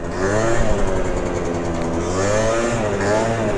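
A scooter fitted with an aftermarket exhaust accelerates hard, its engine note rising in a steady climbing drone with a brief dip and pickup again, loud and close throughout.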